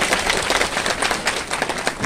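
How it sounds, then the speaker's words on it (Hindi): A crowd claps steadily in welcome for the chief minister at an outdoor public gathering, dense continuous applause at close range with no talking over it. "एक बार सारे लोग मुख्यमंत्री जी का ताली बजा के स्वागत करेंगे"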